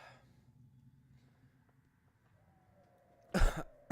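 A single sharp cough near the end, loud and close, after a stretch of quiet room noise.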